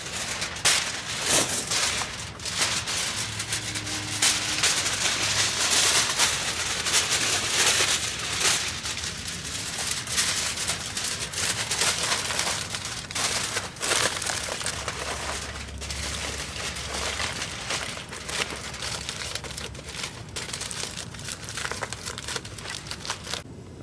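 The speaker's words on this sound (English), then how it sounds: "And now I'm just going to wrap it with foil so it doesn't overheat." Aluminium foil is crinkled and wrapped around a repotted LSU Gold fig tree's container, a continuous close crackling and rustling that lasts throughout.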